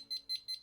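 A digital needle probe thermometer set to alarm at 130 degrees beeps in a steady rhythm, four short high-pitched tones evenly spaced, faint but clear with no talking.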